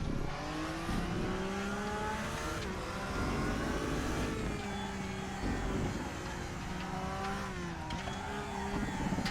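Porsche GT3 engine in RaceRoom racing sim pulls hard through the gears, a continuous close-up wail rising in pitch then dipping at each upshift and downshift across nine seconds, with no voices.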